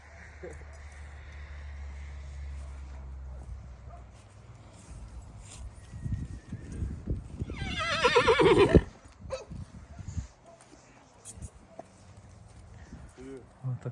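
A mare whinnies in a loud, rising-then-falling burst near the middle, with voices and outdoor rustling around it.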